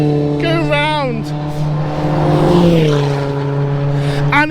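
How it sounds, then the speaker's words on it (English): A Vauxhall VX220 race car lapping Donington Park during a time attack event, its engine droning steadily with pitch rising and falling through gear changes, mixed with other car noise while people talk over it. "then you got Riley in the VX220 going round"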